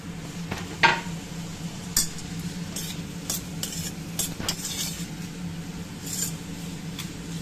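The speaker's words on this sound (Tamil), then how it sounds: "நல்லா கிண்டணும்." Tomatoes being stirred in a frying pan for paneer biryani, with a spoon scraping and clinking against the pan at close range over a steady low sizzle, plus a few sharper knocks.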